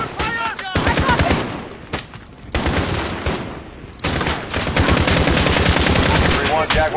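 Dense automatic gunfire and explosive bursts from a Call of Duty Modern Warfare battle, loud and nearly continuous with brief gaps, heavy rattling volleys dominating throughout.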